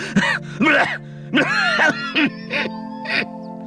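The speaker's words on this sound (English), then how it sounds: "The auctioneer was overcome by a coughing fit." A man coughs and splutters repeatedly in a rough, strained fit, several harsh bursts close by with brief pauses between them.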